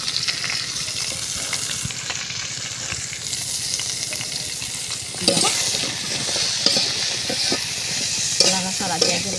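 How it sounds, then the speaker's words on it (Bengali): Onions, bay leaves, chili and coriander sizzle steadily in a hot pan for khichuri, with a spoon scraping and stirring through them in bursts toward the end. "লাড়াচাড়া দিয়ে দিলাম"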